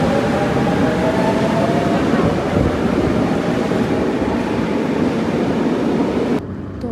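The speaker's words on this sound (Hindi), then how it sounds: "तो हम बैठ गए हैं जी ट्रेन में और अब चलते हैं पेरिस की तरफ" Interior of a train riding towards Paris, a loud, continuous rumble of wheels and carriage noise with faint rhythmic clatter, cutting off sharply near the end.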